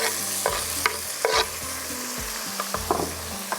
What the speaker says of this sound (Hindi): मसाले को आपने बड़े अच्छे से भून लेना